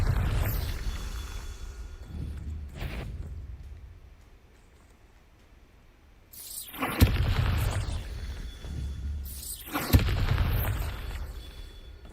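Bombarda spell blasts from the Hogwarts Legacy video game go off as sharp booming bursts, one near the start and two louder ones later. Each is followed by a rumbling tail, with quieter ambience between them.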